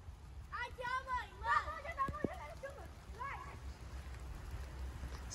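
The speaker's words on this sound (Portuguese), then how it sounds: "tá chovendo" Steady rain falls outdoors as a soft, continuous hiss, partly buried under excited voices of children and someone talking over it.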